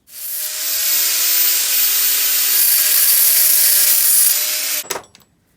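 A luggage rack part for a Honda XR is trimmed back about 10 mm, giving a steady, loud, close hissing cut that runs nearly five seconds before stopping abruptly with a brief clatter.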